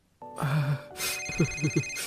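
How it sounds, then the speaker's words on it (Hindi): An incoming call in a cartoon sets off a telephone ringtone, a bright electronic melody with a few short chirping notes, loud and close, with no talking over it. "तभी उसके पास 8 साल बाद उसकी माँ का फोन आता है"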